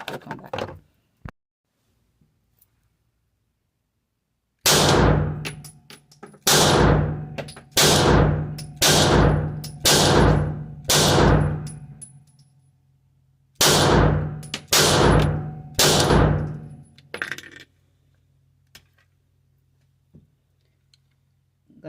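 Gunshots fired from a handgun at an indoor shooting range, emptying the last magazine: sharp, loud reports in steady rhythm, about seven in a row, a pause, then about three more, each with a short ringing decay and no talking.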